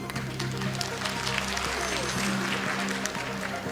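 A studio audience on a quiz show applauds, a steady crackle of many hands clapping at moderate level with a voice speaking faintly underneath.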